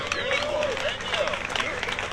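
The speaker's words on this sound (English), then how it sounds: "Big round of applause." Audience at a Concours d'Lemons awards ceremony giving a round of applause, a soft, distant patter of many hands clapping with murmuring voices mixed in, steady for a couple of seconds.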